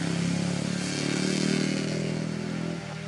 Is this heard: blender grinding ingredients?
no